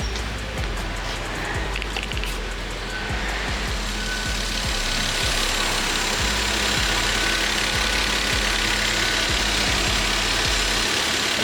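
A car engine idles close by with a steady low rumble and a regular mechanical ticking pulse, running continuously without any voices.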